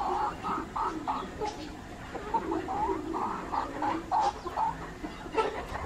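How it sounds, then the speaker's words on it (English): Bantam chickens with feathered legs cluck steadily in a backyard, short repeated calls close by over a busy outdoor background of other bird noises. "These bantam chicken, they look very beautiful."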